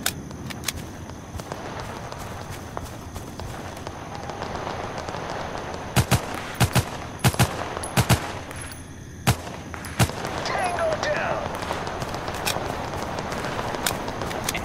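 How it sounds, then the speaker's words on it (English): Gunfire in the Total Conflict Resistance video game, a night battle with a low rumbling background and clusters of sharp, loud shots in quick bursts, with scattered single reports. "Opening fire."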